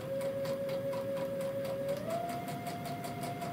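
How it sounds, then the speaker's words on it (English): Baby Lock Chorus sewing machine stitching fabric with a steady electric motor whine that rises slightly in pitch partway through, joined by a fast even needle rhythm, close and constant. "When I put my foot on the controller and start stitching, it's going to drop the presser foot for me"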